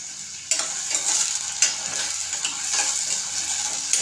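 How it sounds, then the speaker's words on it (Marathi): Onions frying in oil until reddish-brown for a bottle gourd and chana dal curry: a steady crackling sizzle close by, with a sharp clatter at the start and spatula scrapes recurring throughout. "आपल्याला कांदा चांगला लाल करून घ्यायचा"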